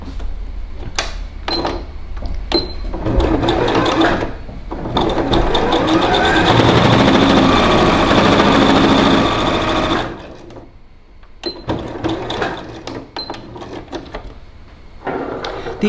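A sewing machine stitches a fabric mask with a 90 size needle, whirring loudly in bursts of rapid stitching separated by pauses, clicks and handling noises close by.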